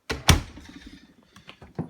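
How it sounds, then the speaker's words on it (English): A hidden bookcase door on rollers glides shut with a heavy close-up thunk at the start, then rolls on with a low rumble and a few softer knocks trailing after. "I'm going to shut the door."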